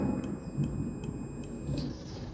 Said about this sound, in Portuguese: esse bip tem que ser desligado